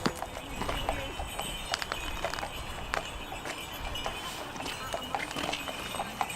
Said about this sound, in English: Got a horse and cart coming up the road.